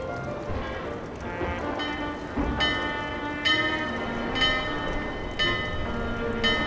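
A large bell at No Man's Wharf in Dark Souls 2 is struck repeatedly, about once a second, each clang ringing out over a steady rain-like wash of background noise.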